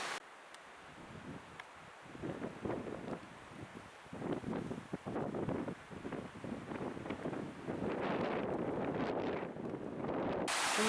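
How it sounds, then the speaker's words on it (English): Wind blowing across a high mountain trail in the backcountry near Bowman Lake, Glacier National Park, at about 5,300 feet: steady rushing gusts and buffeting against the microphone, swelling stronger in the last few seconds, with no talk. "And the wind sure is sucking out that way."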